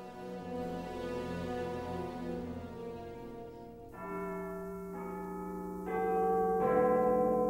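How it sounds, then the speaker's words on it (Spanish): Resonant church bells chime the hour, ringing out in a series of overlapping, sustained tones, struck one after another with long lingering hums, moderately distant, during a live stage play. "las campanas de una iglesia cercana dieron los 4:15"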